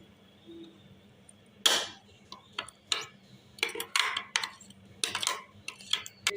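Spices and blended onion being stirred together in a bowl with a spoon, a series of irregular clinks and scraping taps, close but fairly quiet, with no talking.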